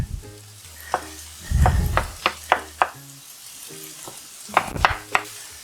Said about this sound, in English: We're going to turn that heat up just a little bit. We're going to break up that sausage.